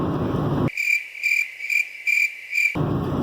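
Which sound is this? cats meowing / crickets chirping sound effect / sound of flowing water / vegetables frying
crickets chirping sound effect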